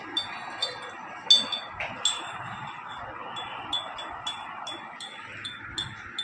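A metal spoon clinks against a bowl during a meal. Light, irregular taps are scattered over a quiet indoor background, with faint murmuring in the room.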